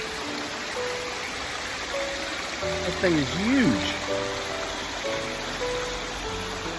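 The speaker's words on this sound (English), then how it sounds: "So that's the top of the waterfall right there" Steady broadband rush of a waterfall at Swatara State Park fills the background throughout, with someone talking over it and a brief whistling sound in the middle.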